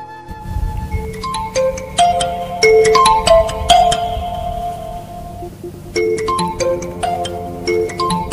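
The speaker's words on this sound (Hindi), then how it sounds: "वो मेरे लिए फोन है" A phone ringtone plays a bright electronic melody of plinking notes, pauses briefly, then repeats, clear and close.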